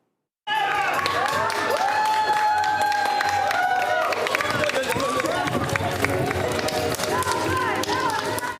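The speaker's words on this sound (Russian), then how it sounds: "Под звонкие искренние овации участники финишировали." A crowd claps and cheers loudly as participants finish a sports race in Abkhazia. Lively voices shout and whoop over dense, continuous applause, close and sustained until an abrupt end.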